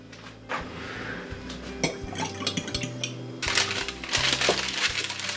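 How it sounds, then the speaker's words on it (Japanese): A whisk or utensil clinks and scrapes against a bowl as an egg is mixed into homemade buttermilk. The sound comes in close, irregular bursts of stirring and tapping over a soft musical background. "次は先ほど作ったバターミルクに卵を1個入れて混ぜます"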